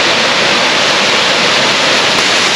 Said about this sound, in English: There is a 5th waterfall.